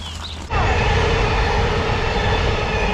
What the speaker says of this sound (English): It was a sleeper! Caledonian sleeper train?